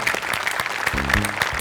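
An audience at a Marathi comedy chat show claps in a short, loud burst of applause, with a voice speaking over it.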